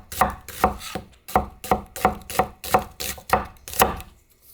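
A knife chops vegetables, chili peppers among them, on a cutting board for spicy Korean stir-fried pork. There are about ten sharp, close thuds at an even, unhurried pace with short pauses between, and no talking.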